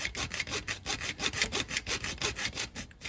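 A hand saw cuts with rapid, even back-and-forth strokes into the engine of a Porsche Boxster 986 during an IMS bearing fix. The rasping strokes are close up and continuous, with no talking.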